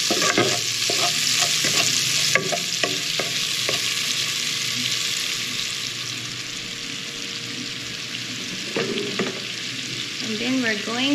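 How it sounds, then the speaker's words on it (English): Chopped onion frying in a hot pan with steady sizzling, while a utensil scrapes and clacks against the metal in repeated stirring strokes, close and fairly loud throughout. "We're going to put the onion first."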